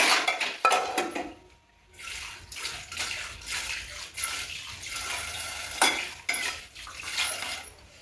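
Dishes, pots and pans clatter and clink while water runs, with brief pauses in the scrubbing and rinsing, close by and fairly loud.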